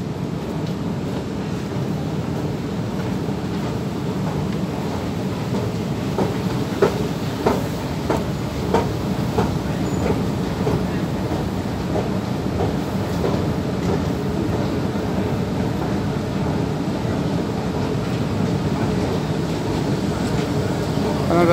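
A train passes in Stockholm with a continuous low rumble and a series of rhythmic rail clicks, heard at moderate distance over street ambience.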